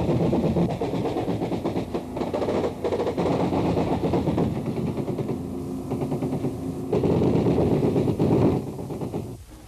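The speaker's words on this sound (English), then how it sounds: "The bark of Chinese Communist AK-47s comes from the left bank." Chinese Communist AK-47 automatic rifles fire in sustained bursts from a river bank during the Vietnam War, a dense, continuous rattling clatter that stays loud throughout.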